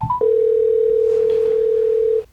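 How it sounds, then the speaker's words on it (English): Phone call tone heard through Havit E30 earbuds: a brief tap and short beep, then one loud, steady pure tone held for about two seconds before cutting off cleanly. "let's make a phone call"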